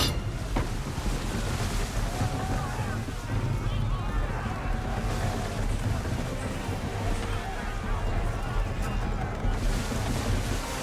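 Steady wind and rushing sea around a sailing ship at sea in Assassin's Creed 3, a constant broad whoosh with water wash underneath and voices speaking over it.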